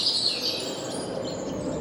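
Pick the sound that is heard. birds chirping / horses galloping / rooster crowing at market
birds chirping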